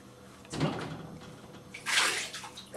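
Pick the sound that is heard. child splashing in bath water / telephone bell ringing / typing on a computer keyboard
child splashing in bath water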